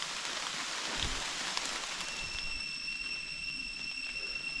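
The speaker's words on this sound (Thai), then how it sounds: "ฝนตกแล้วทุกคน" Rain falls steadily outdoors during a hunting trip in the Thai-Lao countryside, a soft continuous hiss with scattered drops, alongside faint rustling and no talk.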